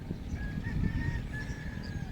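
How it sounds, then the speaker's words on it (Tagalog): Large birds call out over rice fields, giving faint, thin honking notes at a distance over a low, rumbling outdoor background. "Ayan tayong ibon."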